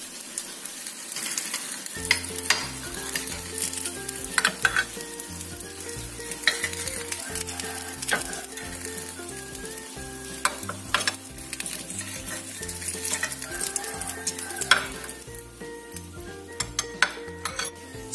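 Potato pieces fry in a pan with a constant close sizzle, broken by regular stirring strokes and light clinks of a utensil against the metal; no voices.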